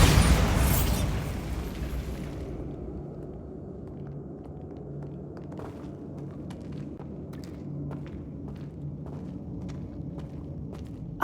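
A Bombarda spell blast in the video game Hogwarts Legacy bursts loudly and rolls into a long low rumble, followed by scattered small clattering debris.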